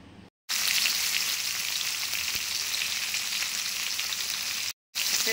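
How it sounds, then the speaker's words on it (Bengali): Snakehead fish fries in a pan with a loud, continuous hiss and sizzle at close range, broken by two brief silent gaps. "শোল মাছ ভাজা বসিয়ে দিয়েছি"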